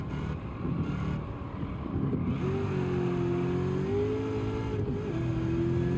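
A Dodge Viper race car engine in Gran Turismo 7 on a mountain circuit drones and climbs in pitch as it accelerates through gears, a steady close engine tone with a brief dip between shifts.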